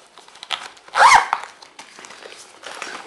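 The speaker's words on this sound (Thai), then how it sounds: "อาจจะมีซิป เล็กอย่างนี้ครับ" A small zipper on a Razer Utility Backpack gives one short, sharp rasp, surrounded by soft rustling and crinkling as the bag is handled.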